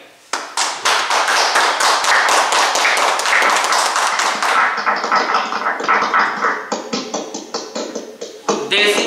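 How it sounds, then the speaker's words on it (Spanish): Clapping at a virtual graduation ceremony for a night-session class, a burst of sharp, close hand claps that thins into scattered, uneven claps toward the end. "Un aplauso para él."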